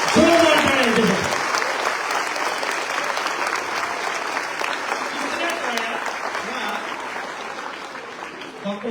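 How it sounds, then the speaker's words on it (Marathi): An audience applauds event volunteers at an inspiring speech event, a dense, steady burst of clapping from a full hall that continues throughout, with a brief voice at the very start. "ह्यांच्यासाठी पहिल्यांदा जोरदार टाळ्या यांच्यासाठी"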